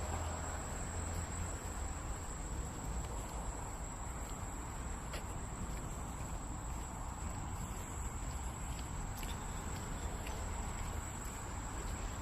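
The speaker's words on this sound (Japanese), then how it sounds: "このジジジジジっていうのは何コオロギ？" Crickets chirp continuously through a night walk, a dense steady buzzing chorus at moderate level that runs unbroken throughout with no voices.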